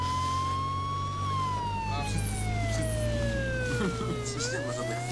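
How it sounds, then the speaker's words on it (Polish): Vehicle siren in the battle royale game H1Z1 wails steadily, rising then falling in long sweeps under constant engine rumble and game noise, loud and continuous throughout. "Chyba wyłączam syrenę."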